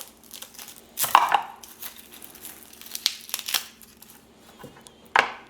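A knife chopping a garlic clove on a board, a few sharp irregular cuts with quiet gaps between them, close and fairly loud.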